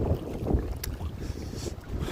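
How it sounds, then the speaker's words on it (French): Strong wind gusts across a microphone on a riverbank by the Saône, with waves stirred up while carp fishing; a continuous rough buffeting roar rises and falls with brief sharper gusts. "Vraiment pas mal de vent, il y a des vagues"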